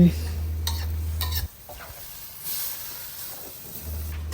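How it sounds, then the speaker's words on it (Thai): A spoon scrapes and stirs a sizzling curry mixture with cha-om leaves in a pan, close clinks and scraping over a soft frying hiss, with a low hum at the start and end. "คนส่วนผสมให้เข้ากันดีเลยนะคะ กลิ่นชะอมหอมมากเลยค่ะทุกคน"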